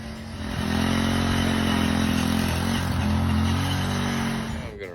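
Petrol garden tiller running steadily in a backyard garden plot, a loud continuous low engine drone with mechanical clatter that holds for several seconds before cutting off near the end, no talking.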